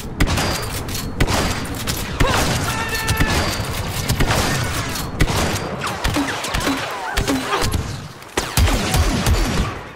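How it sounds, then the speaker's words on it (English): Gunfire rings out during a forest battle on Endor in the video game Star Wars Battlefront 2. Loud, sharp blasts come in quick succession against a dense backdrop of combat noise and booms. "The shotgun."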